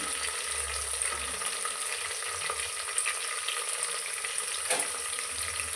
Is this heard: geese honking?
no